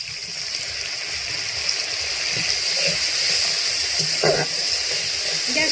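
Mustard spice paste for tilapia sorshe jhal sizzles and hisses steadily as water goes into the hot pan, a continuous bright crackle with a short burst of bubbling partway through.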